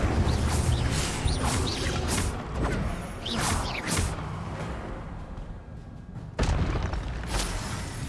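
An Incendio fire spell is cast in a Harry Potter video game, giving dense booming, crackling bursts over a constant busy game background, loud and layered with repeated sharp impacts.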